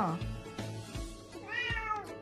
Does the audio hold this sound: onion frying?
no